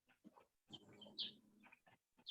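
Wild birds chirp faintly in the background of a workshop, with several short high calls scattered across the moment and a low, murmuring room tone underneath.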